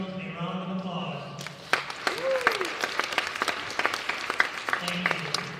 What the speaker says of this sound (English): Let's give our officials a round of applause